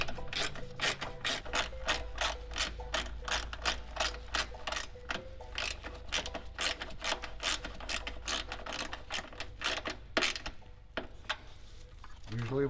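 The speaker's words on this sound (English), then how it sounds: "you're gonna wanna take this 10 millimeter bolt out" A hand ratchet clicks in quick, steady bursts while loosening a 10 millimeter bolt on an S197 3.7L V6 Mustang during a turbo kit install. The repeated metallic pawl ticks are close and clear.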